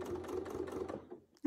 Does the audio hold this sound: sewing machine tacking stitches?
yes